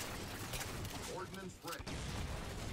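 Grenade explosions in the video game Halo 4 during a Team Slayer match, a continuous loud rumbling barrage with a brief dip in the middle before the booming resumes.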